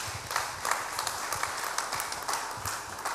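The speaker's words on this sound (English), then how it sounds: "applause." A church congregation applauds in a steady patter of many hands clapping, moderately distant and even, keeping up for a few seconds without a break.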